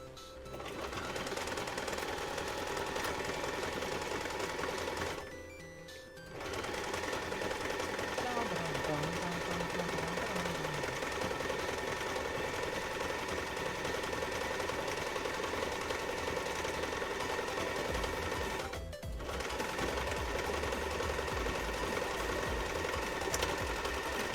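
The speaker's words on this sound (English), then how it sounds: "So now we're just going to sew along it. And we're just doing a normal straight stitch" Sewing machine running a straight stitch along fursuit pattern pieces, a loud, fast, steady mechanical whir that pauses twice briefly, with a voice talking over it.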